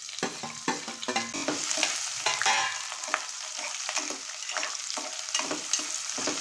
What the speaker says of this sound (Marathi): कांदा छान असा परतून घ्यायचा आहे